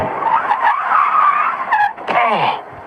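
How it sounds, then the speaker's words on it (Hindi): A car brakes hard on a deserted night road, tires skidding and squealing loudly for a few seconds, with no voices. "तभी गाड़ी में जोर का ब्रेक लगा"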